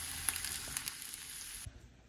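Fish fries in a pan with a close, crackling sizzle and scattered pops, then drops off sharply near the end, leaving a faint low hiss.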